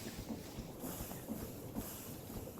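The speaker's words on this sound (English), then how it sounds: "I have a steam engine." A steam engine in a video game chugs with a soft, rhythmic hiss and low rolling pulses, faint and steady throughout.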